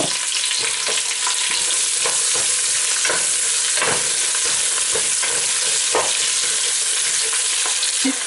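Chopped onion frying with whole spices such as cloves, cumin seeds, cinnamon, green cardamom and bay leaves for Hyderabadi mutton biryani, a loud continuous sizzle broken by regular scraping stir strokes, close and without speech.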